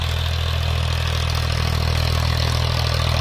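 A restored Ford 3600 tractor engine idles steadily up close, a loud, even diesel rumble with light mechanical clatter and no voices over it.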